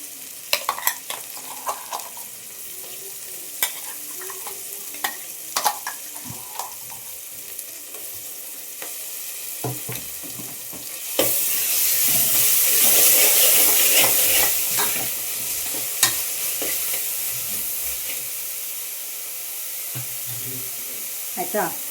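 Ground masala paste frying and being stirred in a hot pan for a coconut pulao, with scraping strokes and a louder burst of sizzling midway that gradually settles, close and alone.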